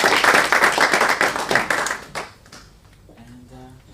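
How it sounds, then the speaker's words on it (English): Workshop participants clapping for themselves, a short burst of applause from a small group that fades after about two seconds into quiet room tone with faint voices. "Let's give ourselves a round of applause."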